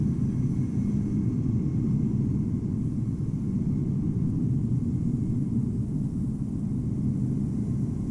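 An Etihad Airbus A350 passes at Amsterdam Schiphol in Microsoft Flight Simulator, a steady low jet rumble holding constant throughout with no talking.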